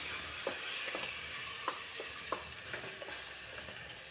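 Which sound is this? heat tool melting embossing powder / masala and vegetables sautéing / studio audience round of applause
masala and vegetables sautéing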